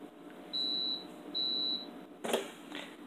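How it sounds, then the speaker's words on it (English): A Breville Barista espresso machine gives two high, clear electronic beeps at the end of its cleaning cycle, each lasting about half a second, followed by a brief clatter nearby. "When you hear that beep beep, at the end of the 5th cycle, that means the machine has been cleaned"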